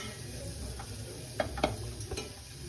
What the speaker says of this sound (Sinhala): ඔන්න කෑලි මිරිස් තුනක් දාලා නැවත කලවම් කරනවා.